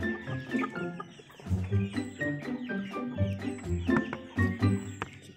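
Hungry pumpkin cross chickens cluck and chirp busily at feeding time, a dense, close, overlapping chorus of short calls and peeps with no talk.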